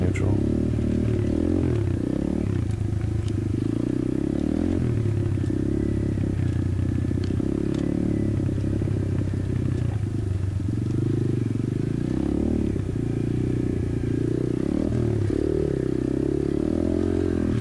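Apollo RFZ 125cc pit bike ridden along a single-track enduro trail, its engine droning loudly and steadily close by, with clattering and scraping from the rough terrain throughout.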